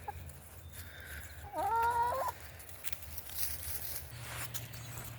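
A chicken gives a short, loud, warbling call up close while a flock gathers at someone's feet asking for food, with quieter clucks and soft rustling before and after.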